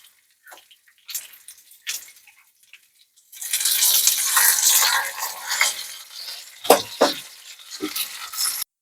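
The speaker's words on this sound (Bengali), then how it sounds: "দেখুন, মাছগুলো সুন্দরভাবে লাল লাল করে ভেজে নিয়েছি।" Fish sizzles steadily in hot oil in a kadai, with sporadic scraping stirs and clinks at first, then a loud continuous frying hiss broken by a few sharp clatters.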